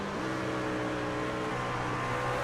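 A truck engine in the iRacing video game during a Darlington truck series race, droning steadily with a shift in pitch like a downshift to third gear, close and continuous with no voices.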